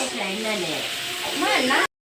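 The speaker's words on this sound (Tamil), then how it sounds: "பொரிக்குது" Chili paste for anchovy sambal sizzling and frying in oil, a steady close crackling hiss that swells near the end before cutting to silence; a voice talks over it.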